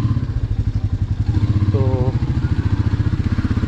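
Motorcycle heard from a helmet-mounted camera on a short ride, its engine putting out a loud, steady, pulsing mid-pitched drone with a brief rising tone partway through.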